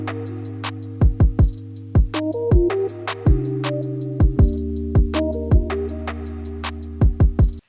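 A trap R&B beat plays loud with crisp rapid hi-hat ticks, deep sliding 808 bass hits, and sustained keys and lead melody layered over a steady groove.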